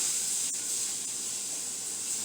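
Roux steams and bubbles in a pot while being stirred, giving a steady, close hiss with faint crackle throughout and no talking.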